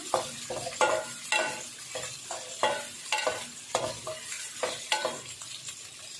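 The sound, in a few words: pre-boiled chicken being lightly fried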